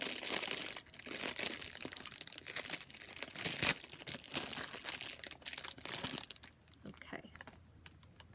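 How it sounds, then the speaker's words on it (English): A succulent plant being unwrapped from its packaging at close range, giving a busy stream of crinkling, rustling and tearing sounds that quieten toward the end, with a person talking faintly nearby. "Going to unwrap."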